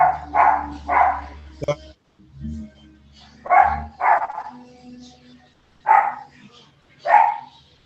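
A dog barks repeatedly over an online call, about six sharp barks in pairs spread across several seconds, loud and close to the microphone, with low background hum between them.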